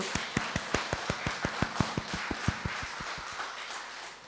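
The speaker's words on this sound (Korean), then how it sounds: "주님께 우리 감사의 박수를 올리겠습니다" A church congregation at a dawn worship service claps in unison, a brisk, even rhythm of sharp claps lasting about four seconds before tapering off, with no talking over it.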